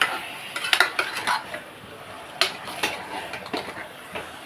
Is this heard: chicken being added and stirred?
yes